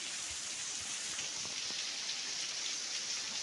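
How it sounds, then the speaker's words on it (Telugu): Heavy rain pours steadily at a Shiva temple, a dense, even hiss with scattered drips and patters on surfaces, no voices. "భయంకరమైన వర్షం."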